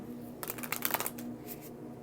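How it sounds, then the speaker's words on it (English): A quick riffle of playing cards being shuffled, a short flurry of crisp fluttering clicks close by in a quiet room. "Shuffle this again."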